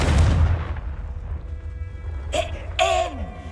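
A Confringo fire spell blast in Hogwarts Legacy opens with a loud deep booming burst that rumbles away, followed by a couple of short high-pitched character voice sounds.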